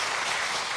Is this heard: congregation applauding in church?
yes